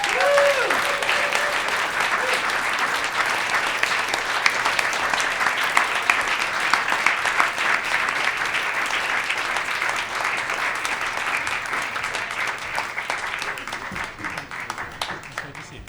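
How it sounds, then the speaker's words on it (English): A live audience gives a warm, sustained round of applause as a guest is welcomed onto a talk-event stage, dense clapping that stays strong for most of the stretch and gradually tapers, with a voice heard briefly at the start. "Please, a very warm round of applause for David McRaney."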